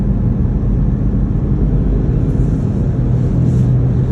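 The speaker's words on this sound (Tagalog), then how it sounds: "Yan, medyo dumadami-dami na ang sasakyan." Road traffic on a wide road, with cars passing in a dense, steady, loud low rumble that carries on without a break, heard close.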